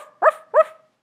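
A voice imitates a dog barking with two short, clear "ruff" calls in quick succession, close and loud, followed by silence.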